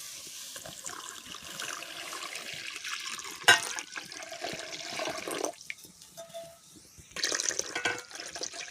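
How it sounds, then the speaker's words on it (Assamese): Water is poured into a cooking pot of lentils, producing a steady splashing, gurgling pour with brief louder bursts, fairly close with no talk. "দুমগ পানী দি দিম।"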